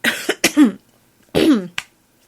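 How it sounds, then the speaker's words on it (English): Two bursts of harsh, close coughing separated by a short silence, each a rough hacking cough with throaty rasp. "coughing."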